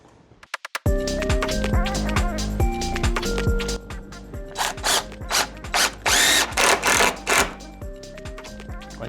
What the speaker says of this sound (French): je vais commencer par aller visser là.